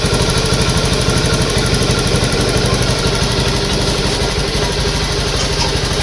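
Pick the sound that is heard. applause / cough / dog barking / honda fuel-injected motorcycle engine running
honda fuel-injected motorcycle engine running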